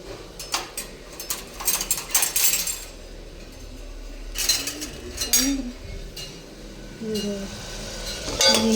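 Spoon clinking against dishes and pots in a home kitchen while mutton sambar rice is being made: several light metallic clinks and taps scattered through, with background voices and household noise.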